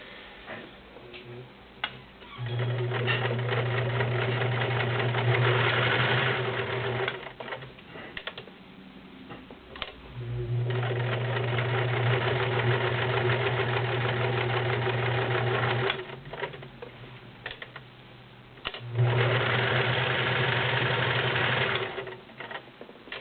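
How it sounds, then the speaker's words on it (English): A 1941 Kenmore convertible super high shank sewing machine stitches through thick, non-stretch denim in three steady, loud runs of rapid mechanical whirring, separated by short pauses and light handling noises. "That is the Kenmore model 1941 convertible super high shank machine."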